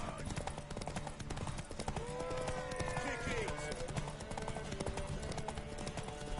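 Horse hooves clip-clop steadily in a scene from The Witcher, mixed with background music and other game sounds, moderately loud throughout.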